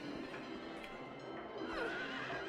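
A merry-go-round horse in Silent Hill 3 lets out a close, loud whinny that wavers and rises, with hoof-like clip-clop sounds and a droning eerie ambience underneath.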